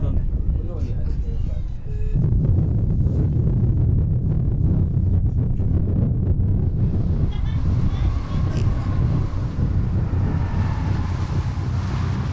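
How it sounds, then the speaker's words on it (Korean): Strong Sahara Desert wind roars steadily against the microphone, a constant loud rushing with gusty low buffeting throughout. "다시 바람이 불기 시작한다"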